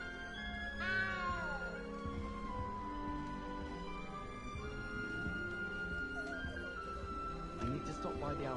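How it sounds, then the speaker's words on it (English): Inside the Hogwarts Legacy video game, a cat gives a clear, drawn-out plaintive meow near the start, heard over a continuous layer of game music and ambience, with fainter mewing sounds later on. "I hear you, unhappy cat."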